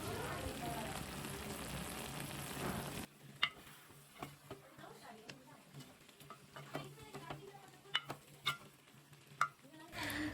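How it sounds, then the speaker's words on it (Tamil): Jaffna-style meat curry with salt and turmeric bubbles in a pot, a steady simmering hiss with scattered soft pops and clicks; a louder burst of stirring or sizzling opens the first few seconds. "கொஞ்சம் நேரம் மூடி விட்டுட்டு எடுத்தால் இந்த மாதிரி கொதிச்சு கொண்டு இருக்கும்"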